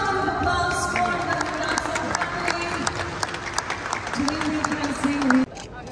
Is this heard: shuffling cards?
no